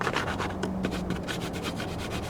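A stiffened foam RC airplane nose coated in Mod Podge hardener is rubbed and handled close up, giving a continuous dry scratchy rustle.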